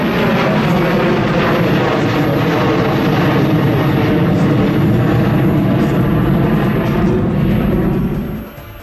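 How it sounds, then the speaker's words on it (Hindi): US fighter jets flying near the coast by Shanghai produce a loud, steady engine roar that fills the whole stretch before dropping off sharply at the very end. "समंदर किनारे खड़े इस शंघाई के करीब तक अमेरिकी लड़ाकू विमान पहुंच चुके हैं।"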